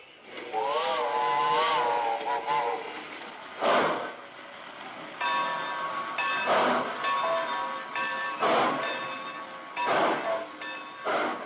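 A train slows at a station with a drawn-out whistle and squealing brakes, followed by repeated heavy clunks and screeches as the cars come to a halt.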